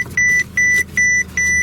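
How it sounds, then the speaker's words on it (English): A 2008 Mercedes-Benz S 550 (W221 S-Class) sounds four evenly spaced, loud electronic warning beeps at startup, signalling a low key battery, with a faint low hum underneath. "it beeps at me"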